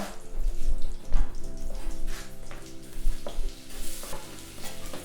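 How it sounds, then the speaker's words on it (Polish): Onion frying in butter in a saucepan crackles and sizzles under repeated stirring scrapes, with a steady tonal hum running underneath. "my teraz wrzucamy cebulkę"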